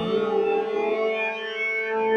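Electric guitar played with distortion through a Donner Yellow Fall delay pedal, a sustained distorted chord ringing out with echoing repeats and a swelling feedback tone, loud and alone.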